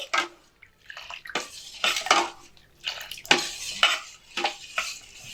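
Rice flour and wheat flour being stirred with water into a pitha batter, heard as repeated scraping and clinking strokes of a spoon against a bowl in uneven bursts, close up with no talking.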